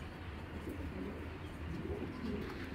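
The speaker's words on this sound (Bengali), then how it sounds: "মাদি কবুতর এটা" A female pigeon coos softly in low, repeated throaty murmurs, faint and somewhat distant over a steady background hum, with no talking.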